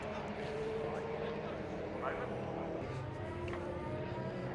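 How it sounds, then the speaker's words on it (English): Supercars, including GT3 RSs, a Performante, a DBS Superleggera, an F12 and a 675 LT, rumble and rev continuously in the Silverstone car park, a low, steady engine roar in the background under a person talking. "You can probably hear all of the cars behind me."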